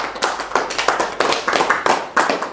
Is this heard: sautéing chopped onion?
no